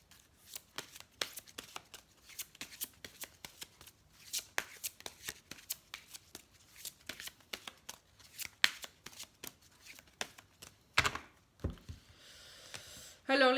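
Close at hand, a deck of oracle cards is shuffled in crisp, rapid flicks and riffles, short repeated bursts at an uneven rhythm, with a louder clatter of handling toward the end.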